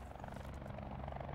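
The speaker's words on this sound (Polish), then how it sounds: "Ty, a tam helikopter leci obok ciebie, Nexus." A helicopter passes close by in the video game Call of Duty: Black Ops 4, its steady rotor thrum and engine drone continuous and fairly faint, with no talk over it.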